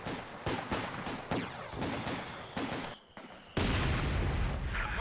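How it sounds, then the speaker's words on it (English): Mortar rounds firing on a garrison in the video game Company of Heroes, a series of heavy booming thumps spaced irregularly among battle noise, ending in a louder sustained rumble. "Mortar firing on that central garrison."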